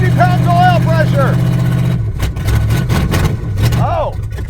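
A 1972 Plymouth Road Runner engine, with its exhaust needing work, idles loudly up close, its low rumble shifting to a rougher, pulsing note partway through while someone talks over it.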